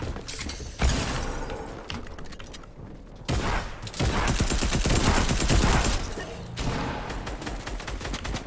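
Rapid bursts of video game gunfire crackle through most of the stretch, loud and dense with a few brief gaps, mixed with clattering mechanical weapon noise and no talking.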